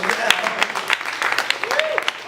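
Close, loud clapping from a small audience at a poetry open mic, uneven and sparse, with a voice briefly sounding over it.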